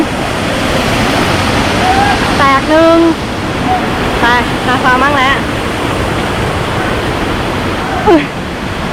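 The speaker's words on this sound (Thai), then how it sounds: "นั่นไงน้ำตกเล็ก" A small waterfall beside a mountain hiking trail on Doi Mai Hom gives a constant, loud rushing roar, while people talk and exclaim over it on and off.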